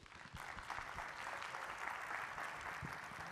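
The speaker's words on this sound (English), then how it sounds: "So warm round of applause for Ami Copeland, please." Applause from a conference audience for the CEO of the ICB, bookkeepers and accountants, a steady wash of many hands clapping close and fairly loud for about three seconds, with no talk over it.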